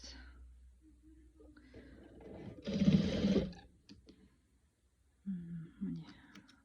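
A domestic sewing machine stitches strips of fabric for a patchwork quilt coverlet in one short, steady whirring burst of under a second, with someone speaking quietly before and after it.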